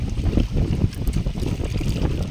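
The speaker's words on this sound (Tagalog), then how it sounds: "Malakas ng hangin guys." Strong wind during net fishing buffeting the microphone in heavy, rumbling gusts, with a constant roar and no voices.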